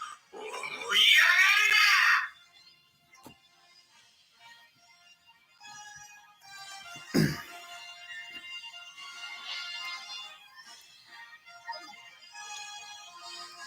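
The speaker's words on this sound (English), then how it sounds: "Sometimes I just open the game just to hear Zamasu scream at me" A video game character, Zamasu, lets out a long, loud anguished scream lasting about two seconds, followed by quieter game music and effects, with a sharp hit partway through.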